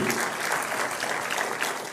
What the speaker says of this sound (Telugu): గట్టిగా చప్పట్లు కొట్టి అందరూ ఆశీర్వదించండి